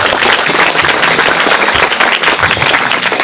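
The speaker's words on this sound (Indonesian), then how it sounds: "Tepuk tangan untuk kita semuanya hari ini." A seminar audience of hundreds of students and teachers claps loudly and continuously, a dense close wash of hand claps with no talking over it.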